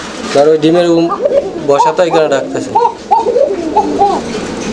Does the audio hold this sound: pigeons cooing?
yes